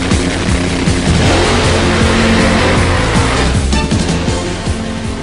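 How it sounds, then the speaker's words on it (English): Top Fuel dragsters roar at a drag race, a loud, sustained engine blast with crackling, pulsing harmonics that holds steady for several seconds and eases slightly toward the end. "These are Top Fuel dragsters. They're drag racing's ultimate speed machines."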